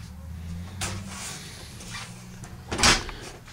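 A couple of soft clunks and a louder thump from a double-door refrigerator in a 2013 Wildwood 28DBUD travel trailer being opened and shut, with a low hum underneath.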